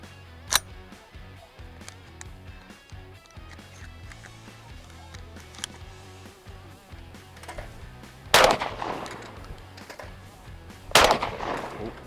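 Charles Daly 601 semi-automatic shotgun firing at clays outdoors: a sharp shot near the start, then two loud, close blasts a few seconds apart later on, with low background rumble between.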